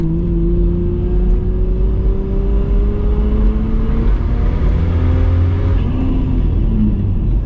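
A Nissan Patrol with a Barra engine accelerates on turbo boost, a loud, steady engine drone that rises in pitch as the vehicle speeds up, heard from inside with no talking.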